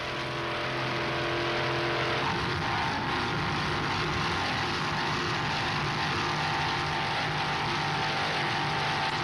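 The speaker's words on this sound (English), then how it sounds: "Our helicopter there in the background." A loud, steady engine and rotor drone from a helicopter overhead at an offshore powerboat race in Miami Beach, continuous throughout with a low rumbling hum and no voices.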